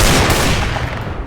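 Loud gunfire in a video game roleplay courtroom scene, a dense burst of shots packed into a brief, sustained crackle with no talk over it.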